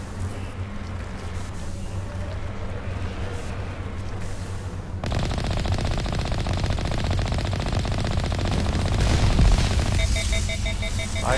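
Bursts of machine gun fire in the video game Mass Effect, played on PS5 at Insanity difficulty, rattle steadily over game ambience and grow denser and louder in the second half.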